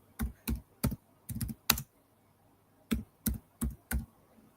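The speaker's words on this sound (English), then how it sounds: "I'm gonna type it." Keys on a computer keyboard tapped in short separate bursts, two pauses breaking up about eleven clustered strikes, close and clear with no talking.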